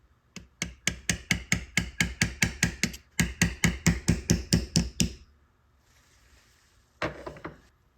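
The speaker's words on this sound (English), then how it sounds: "there's a small pin here that needs to be pressed out from one side" A small pin is tapped out of a World War II Navy Hamilton Model 21 chronometer: two quick runs of evenly spaced, sharp, close hammer taps, followed by quiet and then a few final taps.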